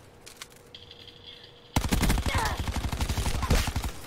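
Rapid automatic gunfire from a gun in Call of Duty Black Ops 4 bursts in loudly after a quiet opening, a dense run of close, rhythmic shots that lasts to the end.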